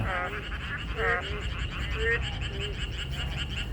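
Frogs or toads croak repeatedly at close range near a stream, short rising calls spaced over a constant background of running water.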